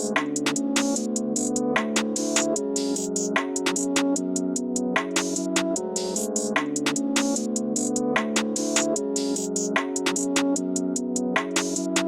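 A full UK drill beat, with rolling hi-hats and punchy drums over a dark, sustained melodic bed, loud and continuous with no voices.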